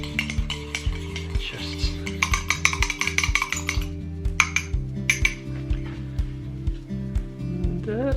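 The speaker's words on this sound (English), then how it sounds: "you want to whisk it all together. Now if you don't have a whisk, then obviously you can use a fork" A fork whisks butter, eggs and milk in a mug, clinking against the ceramic in quick repeated strokes. The scraping and tapping run nearly the whole time, close and clear, with a brief spoken word.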